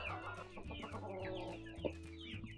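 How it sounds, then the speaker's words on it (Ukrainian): Honking and clucking calls from a group of Kholmogory geese with three-week-old goslings, a gander calling them, with overlapping chatter and a steady low hum behind them. "Але гусак їх кличе і вони не дуже йдуть."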